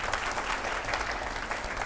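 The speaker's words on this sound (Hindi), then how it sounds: "अरे ताली तो बजाओ, इतनी अच्छी बात कह रहा हूँ।" An audience at a live talk event breaks into brief, dense applause, a steady rattle of many hands clapping at close range for under two seconds, with no speech over it.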